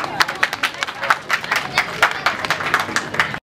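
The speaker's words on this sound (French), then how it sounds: "Si vous avez bien compris, applaudissez pour vous." A group of children claps in quick, uneven bursts, lively and fairly close, with some crowd murmur mixed in before the sound cuts off abruptly.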